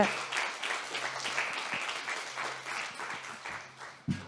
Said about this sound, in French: Je pense qu'on peut encore les applaudir parce que c'est pas facile d'être devant tout le monde.